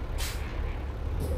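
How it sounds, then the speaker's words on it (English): In American Truck Simulator, a semi truck with Rocky Mountain double trailers lets out a loud hiss of air brake release, then a second shorter hiss, over a steady low engine rumble. "Let's back up this trailer."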